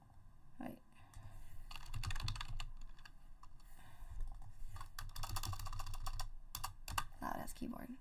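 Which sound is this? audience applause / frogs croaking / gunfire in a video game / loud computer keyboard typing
loud computer keyboard typing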